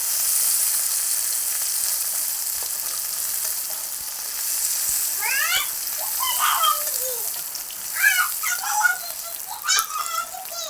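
Shrimp fry in a pan with a steady, bright sizzle that runs throughout, while voices and small clinks come through over the hiss in the second half.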